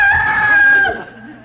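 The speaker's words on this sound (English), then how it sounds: "Go ahead and crow." A rooster crows at daybreak, a single loud close crow, strained and harmonic, fading off after about a second.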